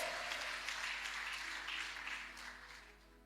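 A church congregation at a Saturday service applauds, a dense wash of clapping that gradually fades toward the end.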